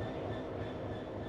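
A Southeastern high-speed train rolls along, a steady, full rumble of wheels and carriage noise with a faint tonal whine, heard from inside.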